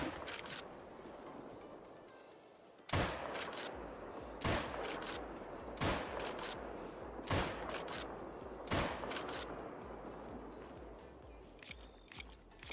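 Gunshots in the hunting video game Call of the Wild: five or six loud, separate blasts spaced a second or two apart over a quieter outdoor background, no talk.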